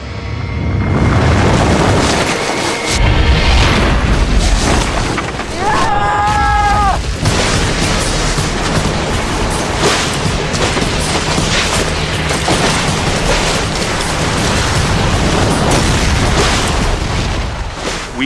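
An Alaskan avalanche roars continuously, loud and close, a dense rumbling wall of sound with cracking bursts throughout and a brief tonal whine partway through.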